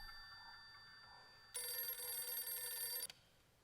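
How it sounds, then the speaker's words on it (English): A telephone rings once in a bright electronic burst lasting about a second and a half, loud against a quiet background hum. "And now we've got a phone call."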